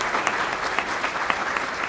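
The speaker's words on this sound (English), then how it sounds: "we'd all like to give DARPA a round of applause" Audience applause at a technical conference talk on a software defined radio platform, a dense steady wash of clapping with a few sharper individual claps standing out, continuing evenly at fairly strong volume throughout.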